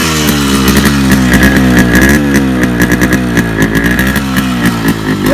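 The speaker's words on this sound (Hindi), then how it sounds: "तो ये स्टॉक वाला एग्जॉस्ट ही है, और गाड़ी पूरा स्टार्ट हो गया" A Yamaha RX100 motorcycle engine runs loudly up close, its stock exhaust giving a throbbing note that rises and falls with light revs.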